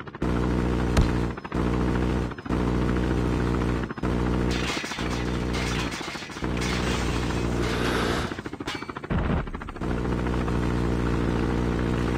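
Helicopter rotor drone from a chopper gunner killstreak in Call of Duty Mobile, a loud steady hum filling the whole stretch, broken by sharp bursts of gunfire and brief dropouts.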